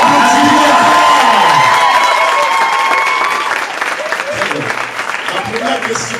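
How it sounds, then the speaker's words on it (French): An audience in a theater hall breaks into loud applause with cheers and whoops. The clapping is heaviest at first and then eases as voices rise above it. "On applaudit pour Ayat"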